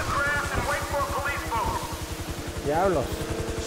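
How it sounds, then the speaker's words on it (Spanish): In Grand Theft Auto V, a helicopter chases the player, its steady low rotor chop thudding throughout under excited talk. "Me sigue ahora un helicóptero."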